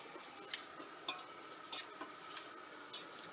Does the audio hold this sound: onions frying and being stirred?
yes